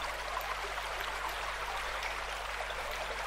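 Game river ambience from a Unity scene: a continuous rushing, trickling stream of flowing water, steady and fairly close, with no talking.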